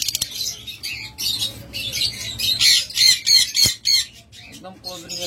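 A pair of pet cockatiels in closed rings at a bird seller's, squawking in loud, repeated harsh bursts with scattered chirps and a brief flutter of wings.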